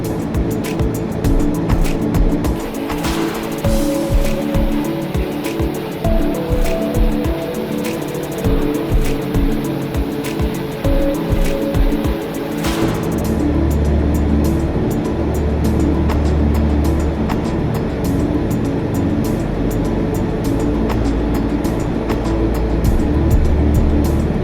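Turboprop engine of a TBM 900 in the X-Plane 11 simulator, a loud steady drone at full power with rhythmic pulsing early on, then a smoother deeper hum, no talking.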